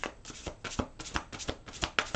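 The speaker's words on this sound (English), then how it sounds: "One more shuffle." Rapid riffling of playing cards being shuffled up close, a quick flurry of crisp fluttering bursts repeating for a couple of seconds.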